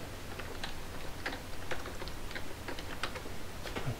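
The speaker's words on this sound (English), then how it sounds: "I'm going to type in equals" Keystrokes on a computer keyboard while entering a formula into a Microsoft Word document, quick irregular clicks tapping out in short bursts, close and fairly soft, with no voices.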